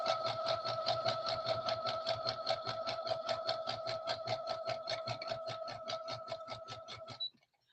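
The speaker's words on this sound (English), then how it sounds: "I'll just stitch that on there" A sewing machine stitches fabric scraps together in a steady rapid run of mechanical chatter that holds for about seven seconds and then stops, close up with no talking.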